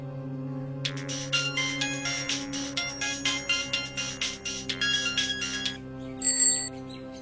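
A mobile phone ringtone plays a repeating electronic melody in a steady rhythm for several seconds, moderately loud and alone over a low hum, then stops and gives way to a brief tone.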